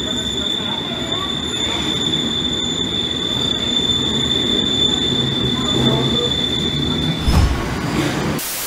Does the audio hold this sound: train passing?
yes